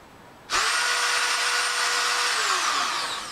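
A 2-amp, 120-volt rotary tool spins up abruptly to full speed, a loud piercing whine that holds steady and then begins to wind down near the end, with no talk.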